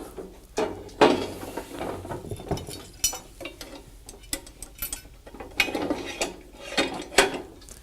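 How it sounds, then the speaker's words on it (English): A metal boom attachment slides into the top of a lift carriage, giving a series of close clanks, ratchety clicks and scrapes in an irregular rhythm. "To install the boom attachment, slip it in the top of the carriage."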